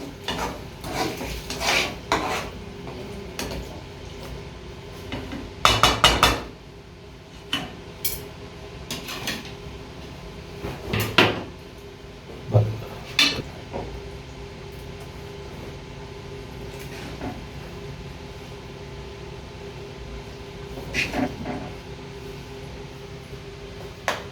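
Egg karahi is stirred and dished out, with repeated metallic scrapes, clinks and knocks of spoon against pan and dishes coming in irregular bursts close by, then quieter stretches in between.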